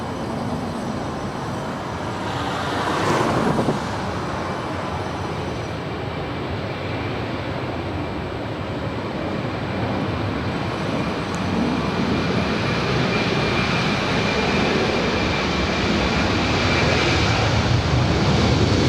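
Delta Airlines jet, a 32-year-old airliner on flight 392 to New York, taking off from runway 24 left at Los Angeles airport: a steady, broad jet-engine roar that holds near-constant and swells slightly louder toward the end, with no talk.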